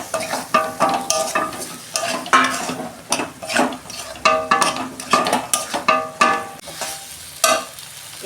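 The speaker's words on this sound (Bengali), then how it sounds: "আমি ঢ্যাঁড়সটা দিয়ে দিচ্ছি।" Okra is added to cooked-down spices in a pan and stirred, with scraping strokes of a spatula against metal in bursts over a steady sizzle, loud and close, with no one talking.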